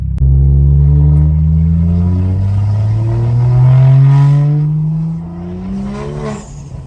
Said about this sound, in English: we're going to drive the car in Eco Pro, because I quite like the sound it makes in Eco Pro